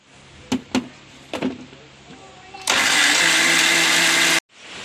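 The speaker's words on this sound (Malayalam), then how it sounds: "നമുക്ക് നാളികേരം അടിക്കാം ആദ്യം." A kitchen mixer grinder grinds coconut for a prawn and mango curry. A few light knocks and clicks come first, then a loud, harsh whirring burst of roughly two seconds that cuts off abruptly.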